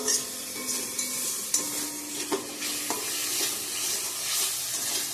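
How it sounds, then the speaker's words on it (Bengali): Fried masala sizzling in a pan as water is added and stirred in, a continuous close hiss broken by spoon scrapes and light clinks against the pot, with no talking. "জল দিয়ে দেবো এখন।"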